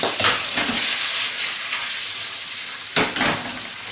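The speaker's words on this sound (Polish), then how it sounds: "I obsmażamy. Cztery minuty." Diced hearts frying in a pan, a steady close sizzle with louder crackling bursts near the start and again toward the end, with no one talking.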